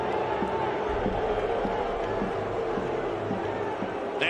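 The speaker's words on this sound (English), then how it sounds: "the Brickyard Battalion have something to cheer for" A USL Championship soccer crowd of Indy supporters roars steadily after an equalizing goal at Louisville, a dense, sustained wall of cheering and chanting heard from a distance.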